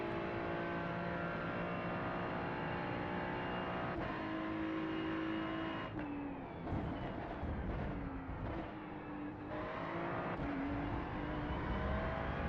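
A GT3 race car engine in a racing video game drones steadily, its pitch dipping and climbing through several gear changes and engine braking into corners, fairly quiet and with no talking.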